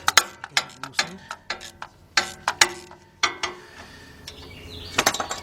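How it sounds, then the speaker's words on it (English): Ratchet loosening a bolt on a 2003 Jeep Liberty Sport 3.7 engine, crisp close clicking in quick uneven bursts of several clicks each, with brief pauses between strokes. "Handy dandy ratchet. All right, let me loosen that up"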